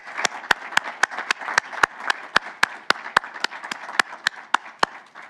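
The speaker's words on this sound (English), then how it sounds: "Round of applause." A crowd at a school district board meeting applauds with steady clapping, a few sharp individual claps standing out rhythmically above the general patter.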